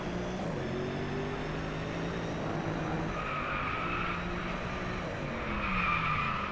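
Car braking hard and skidding at night in Driveclub, a sustained loud tire squeal over a steady engine tone that rises and falls in pitch, continuous throughout with no talk.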